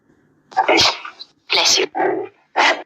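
A person sneezes several times in quick succession, close and loud. The sharp bursts are separated by short pauses.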